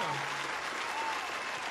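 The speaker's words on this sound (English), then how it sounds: "Round of applause for the room." Applause from a room full of guests at a gathering, a steady wash of clapping heard at a distance with no voices rising above it.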